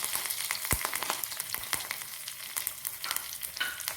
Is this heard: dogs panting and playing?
no